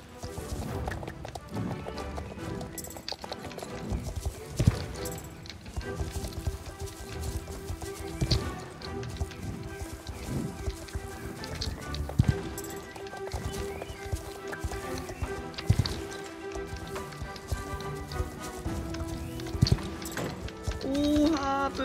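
Horse hooves clip-clop steadily at a gallop in the Star Stable Online riding game, mixed under continuous game music and ambience with occasional louder thuds.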